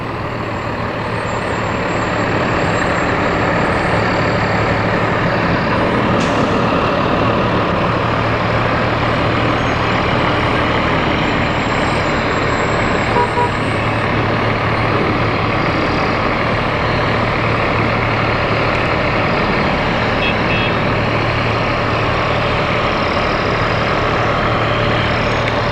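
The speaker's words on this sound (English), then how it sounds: "A big ladder truck." A fire department ladder truck's engine rumbles loudly and steadily throughout a town parade, a continuous heavy drone with no voices.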